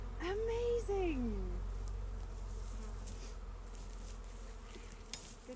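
Honeybees buzz around a newly installed hive on a farm in Portugal, a close, wavering drone that swells early and then settles into a fainter steady hum. A voice sounds briefly near the start.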